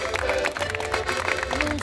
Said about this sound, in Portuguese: palmas para o Manel Pedreiro e para todos os comediantes